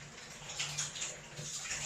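Hands being washed under a running kitchen tap, a steady faint splash and hiss of water with no talking.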